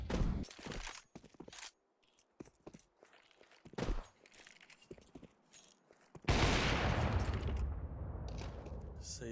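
Counter-Strike 2 gunfire, likely an AWP wall-bang shot, with sharp bursts early on, footsteps and game noise, then a dense, sustained blast of noise from around six seconds to the end.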